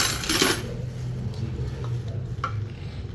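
Mixed vegetable curry of potato and cauliflower served from a pot in a Pakistani village kitchen, with a few soft spoon clinks and stirring scrapes against metal under a low steady background hum.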